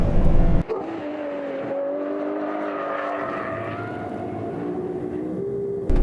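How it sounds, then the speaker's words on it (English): A Ferrari 812 Competizione's V12 engine accelerates hard on the Fiorano track, a loud, sustained, rising mechanical wail heard from inside the car, with no talking. "that V12 is a sensation."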